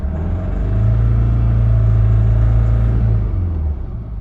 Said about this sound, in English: So I'm going to rev it till I can, or full throttle, and see what happens.